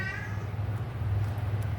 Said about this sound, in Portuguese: ó o gato miando